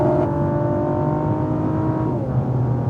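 A car engine on a track rises as the throttle is picked up, a sustained close whir with steady harmonic tones that shift pitch near the end.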